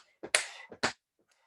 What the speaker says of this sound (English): Clap the hands, generate that energy.